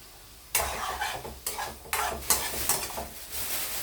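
Already-fried bitter gourd is stir-fried in a pan, with bursts of sizzling and scraping spatula strokes coming in uneven waves after a quiet start; nearby and fairly loud, no talking.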